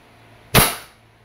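A Crosman SR 357 airgun revolver fires a steel BB once, a single sharp close crack with a quick decay against a quiet background.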